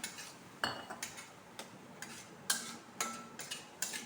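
Spice paste fries in a little ghee in a pan while a spoon stirs it, with a steady run of sharp metallic taps and scrapes over a soft sizzle and no voice.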